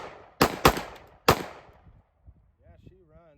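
A Springfield Prodigy pistol fired three times in quick succession, loud sharp cracks ringing into the space, followed by a brief voice.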